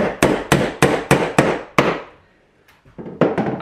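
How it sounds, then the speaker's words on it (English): A hammer strikes a nail into a wooden bird box: six sharp, evenly spaced blows, a short pause, then a quicker flurry of lighter taps, close and loud. "I'm going to hammer in at this side first"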